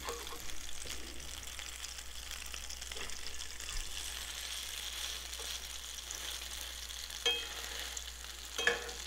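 Tofu patties sizzling in a pan after being turned, a steady close hiss of frying oil with a few faint clicks and taps of utensils near the end, no talk.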